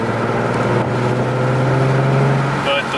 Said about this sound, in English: So what I noticed is a deeper tone to the engine.